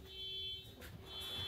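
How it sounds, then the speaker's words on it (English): A neighbor's car alarm sounds in the distance, a faint, steady electronic tone. "Every morning you will hear his car alarm going off."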